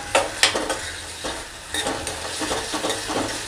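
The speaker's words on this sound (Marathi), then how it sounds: "एक चमचा सोया सॉस घेतलेला आहे तो टाकते आणि हे पूर्ण असं मिक्स" A spoon stirs red chili sauce and soy sauce into a manchurian rice ball mixture in a pan, with soft scraping and a few sharp clinks of the spoon against the pan.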